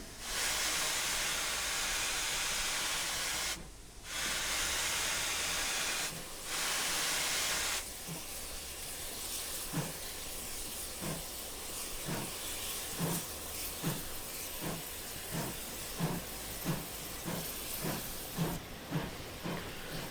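Victory Works Pannier tank steam locomotive in a video game: a loud, steady steam hiss that drops out briefly, then gives way to rhythmic chuffing exhaust beats with hiss continuing underneath.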